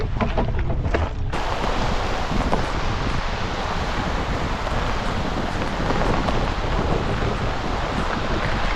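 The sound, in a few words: rain falling at a lakeside campsite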